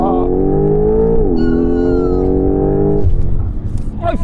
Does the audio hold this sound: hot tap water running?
no